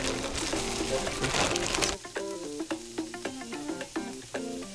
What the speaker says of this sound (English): When everything comes to a nice sizzle, just dump your frozen vegetables right in there